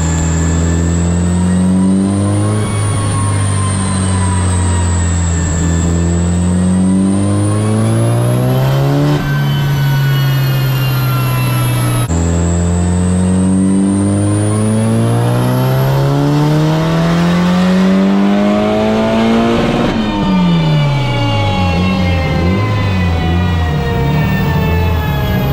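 An SR20DET-engined Ford Anglia on a rolling road running a low boost map, engine loud and close as it climbs steadily through the revs in two long pulls, each ending with a drop back down, with no voices.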